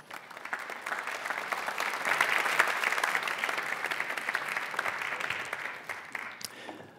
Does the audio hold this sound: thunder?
no